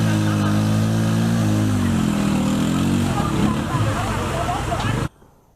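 Motor tricycle engines revving while stuck in a big water-filled gully on a rough road, a loud steady mid-pitched drone that strains and wavers, with voices babbling faintly beneath before the noise cuts off abruptly.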